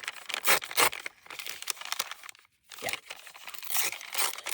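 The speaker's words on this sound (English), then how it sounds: "I'll cut it in half." Scissors cutting a watercolor-decorated paper page in half, repeated crisp snipping and rustling strokes close up, with a brief silent pause in the middle.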